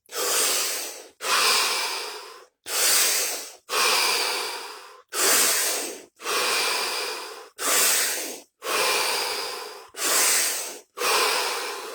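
Seven deep breaths in a guided stillness session, each a long, loud, airy inhale or exhale of about a second, separated by short silent pauses in a steady, even rhythm with no talking.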